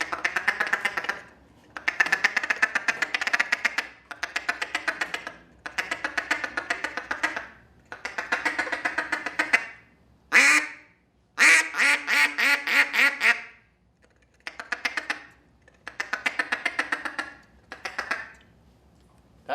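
Duck call blown to imitate duck quacks, a voice-free run of loud, close quacking in repeated rhythmic sequences of fast quacks with short pauses between, plus a couple of sharper bursts midway.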